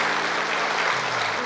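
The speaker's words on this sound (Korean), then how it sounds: "우리 격려의 박수, 감사의 박수 부탁드립니다" A congregation at a church musical performance applauds, producing a dense, steady roar of many hands clapping at an even loudness throughout, with no voices on top.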